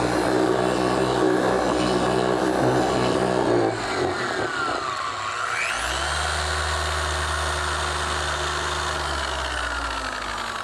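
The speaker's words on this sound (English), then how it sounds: "The pad washer is designed to quickly clean the surface and the internal parts of the foam on this pad." Pad washer for cleaning a foam polishing pad, a loud mechanical whir that winds down midway, then spins back up with a rising whine and settles into a steady hum.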